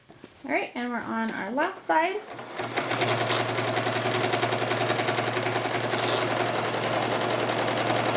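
Sewing machine stitching a quilt-as-you-go book cover, a fast steady mechanical whirring and clattering run that follows a few moments of talking, close and continuous.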